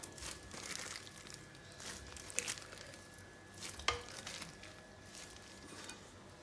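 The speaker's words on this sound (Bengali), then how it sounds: "মাংসগুলো দেওয়ার পরে আবার ভালো করে আমি মিক্স করে নেব" Raw meat for handi gosht being worked together with spices by hand, giving a continuous soft wet squelching and rustling texture with a couple of sharper slaps near the middle, close and moderately quiet, with no talking.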